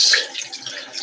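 Water splashes briefly while an espresso machine's filter basket is rinsed, a short, close hiss of running water that quickly fades into faint trickling.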